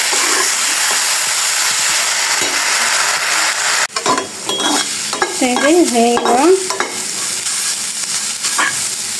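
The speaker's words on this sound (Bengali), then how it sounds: "ভাজা ভাজা করে নেব।" Ingredients sizzle and hiss in a pan before being ground, a steady close frying noise that breaks off partway, followed by clatter and a brief spoken phrase.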